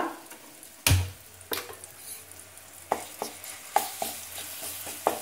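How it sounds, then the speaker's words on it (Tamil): Ingredients for mochai puli kuzhambu sauté in a pan with ginger-garlic paste, a soft sizzle under repeated spoon stirs and sharp taps against the pan, close and alone. "நல்லா வதக்கிக்கலாம் அந்த பச்சை வாசனை போகிற அளவுக்கு வதக்கிக்கலாம்"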